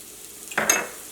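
Chopped carrot and vegetables hit a hot pan with turmeric, releasing a sudden burst of sizzling that swells and fades over about half a second, close by.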